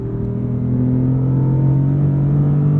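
An Audi R8 Performance RWD coupe's V10 engine pulling hard under acceleration, a loud steady droning rumble with tones climbing gradually in pitch as the revs build, heard from inside the car.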